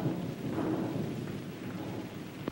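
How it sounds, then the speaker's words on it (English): Thunder rolls in a long, low, steady rumble mixed with the hiss of falling rain, filling the whole stretch with no voices. "Ah, thunder and lightning."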